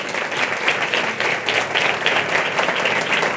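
Steady applause from a church congregation, sustained and fairly even throughout, a dense wash of clapping with no voices standing out.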